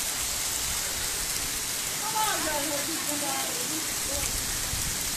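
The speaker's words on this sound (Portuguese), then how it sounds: "a chuva vai caindo" Steady rain pours down on a flooded residential street in Barra, Marataízes, with water nearly reaching a parked Kombi van; a dense, constant hiss of falling water fills the scene alone without voices.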